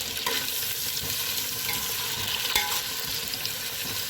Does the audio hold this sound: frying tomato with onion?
yes